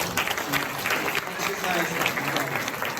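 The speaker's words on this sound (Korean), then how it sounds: "우리 졸업생 크게 박수." Applause for a male graduate at a school graduation ceremony, a dense, steady patter of many hands clapping throughout, with voices speaking over it.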